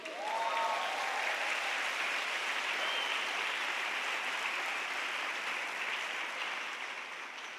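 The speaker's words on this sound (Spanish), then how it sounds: "¿Le damos un aplauso al Señor?" A congregation at a religious convention applauds for the Lord, a broad, sustained wash of clapping that stays loud and even throughout before easing slightly at the end.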